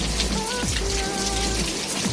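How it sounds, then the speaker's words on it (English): Steady rain falling over the Serbian countryside near Pozarevac, a soft continuous hiss with faint scattered drops and no voices. "But if it's just raining like this, that's perfect."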